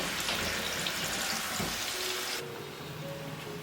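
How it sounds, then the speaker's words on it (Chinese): Pineapple sweet and sour pork pieces being refried in hot oil sizzle loudly and steadily for a couple of seconds, then the frying noise drops to a softer, quieter hiss. "油温重新升高，放下去复炸5秒钟。"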